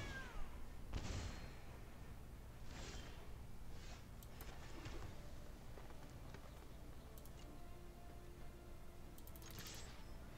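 Cat meows from the MTG Arena card game, a few short separate calls over a faint steady background, with small ticking effects and no voices.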